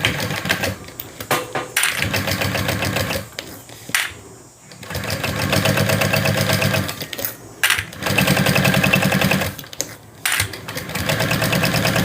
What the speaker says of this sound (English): I'm just going to top stitch at 1/8 of an inch seam allowance